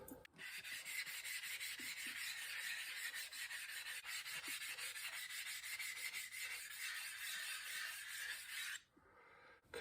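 A THLEITE Splash budget waterstone being flattened, a continuous gritty rasping scrape close up, steady for about nine seconds before stopping abruptly, with no talking.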